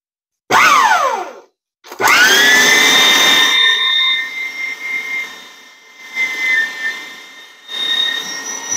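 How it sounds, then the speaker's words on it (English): An electric meat grinder churns through chicken thigh and breast, starting with a loud rising whine, cutting out briefly, then running again with a high steady motor tone that wavers and dips under load. "let's get to grinding up some meat here"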